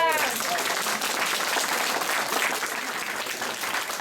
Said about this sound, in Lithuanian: Ploja!